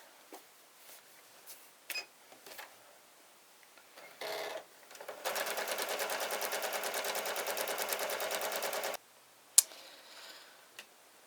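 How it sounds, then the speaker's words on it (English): A sewing machine stitches along the length of quilt-back fabric near the selvage in one steady, rapid, loud run of about four seconds. Softer handling noises of the fabric come before and after it. "I'm going to sew down the length"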